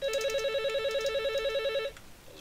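A telephone rings in the middle of a live broadcast, its fast, fluttering electronic trill pulsing evenly and fairly loud before stopping abruptly into faint background hush.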